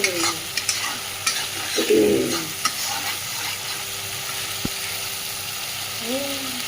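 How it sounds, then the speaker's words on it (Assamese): Masala spices fry in a pan for matar ghugni, with a low sizzle and repeated scraping stirs, including a louder burst of stirring near the middle. There are faint voices in the background. "যিহেতু মটৰ ঘুগুনি হ'ব ন, গতিকে মছলাটো এতিয়াই ভালকৈ ভাজি ল'ব"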